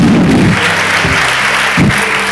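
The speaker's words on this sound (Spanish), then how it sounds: "Arsen, un aplauso para ti, por favor." An audience at a live talk event breaks into loud, dense applause that runs steadily, swelling slightly a couple of times, with no voices heard over it.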